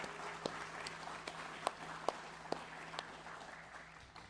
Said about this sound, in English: Can we give the students a round of applause?